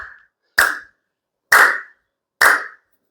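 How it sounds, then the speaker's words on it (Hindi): Hand clapping as a health exercise: three loud, sharp claps ring out alone, about one second apart, each with a short room decay, following the tail of an earlier clap. "25 से 50 बार ये ताली इस तरह से आपको बजानी है।"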